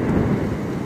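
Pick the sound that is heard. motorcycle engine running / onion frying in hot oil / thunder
thunder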